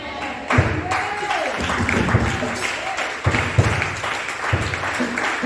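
A church congregation applauding, a loud, dense, continuous wave of clapping with a few thumps and voices mixed in.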